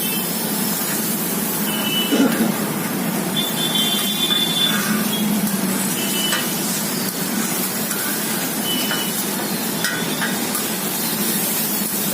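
A butter dosa fries on a hot griddle at a Kolhapur street food stall, where batter of rice, urad dal and maida sizzles with butter in a steady, close hiss. Faint street noise runs beneath it.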